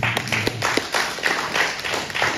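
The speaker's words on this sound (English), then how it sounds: "Let's give a clap also." A congregation claps during a church service, a run of distinct hand claps at a moderate, steady rhythm, fairly close and loud with no one speaking over it.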